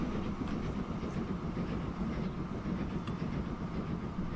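A full silver ore steam train rumbling along the track in Transport Fever 2, a steady, dense rolling roar with faint rhythmic clatter throughout and no voices.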